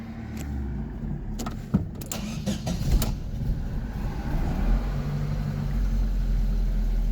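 A Fiat Strada / Palio 1.8 engine is cranked and started, with a few clicks and a short starter burst followed by a steady idle rumble that grows louder and deeper toward the end.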